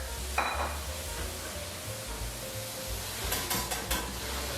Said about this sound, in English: And then give it a little stir.